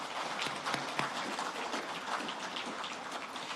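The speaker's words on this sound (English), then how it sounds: "please, a round of applause for each and every one of you" Steady applause from the audience at a New Zealand innovation awards evening, a dense continuous patter of clapping that holds at an even level throughout with no voices over it.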